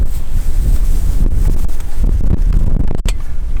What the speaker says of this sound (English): Yeah, it's windy. Windy.